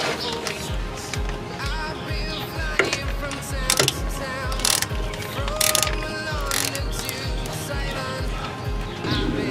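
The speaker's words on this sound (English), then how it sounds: "Right over here we have the fill bolt, which we're gonna crack loose first" A ratchet clicks rapidly and steadily, close up, as it cracks loose the rear differential fill bolt on a 2004 Chevy Avalanche, with a few sharper metallic knocks and strains of effort breaking through partway.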